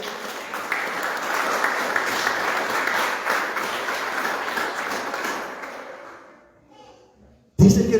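A church congregation applauds loudly and steadily for several seconds during a Sunday service, the clapping fading out before a brief burst of sound at the end.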